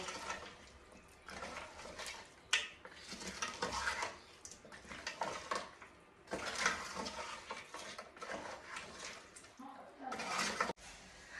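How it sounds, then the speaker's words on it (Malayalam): Boiled cassava stirred into a masala base in a pot for kappa biryani, with repeated scraping and clattering of a utensil against the pan over several seconds. Background kitchen noise stays under the stirring. "ഇനി നമുക്ക് ഇതിലേക്ക് നമ്മൾ വേവിച്ച് വെച്ച കപ്പ കൂട്ടിട്ട് കൊടുക്കാം കേട്ടോ നന്നായിട്ടൊന്ന് ഇളക്കി കൊടുക്കാം"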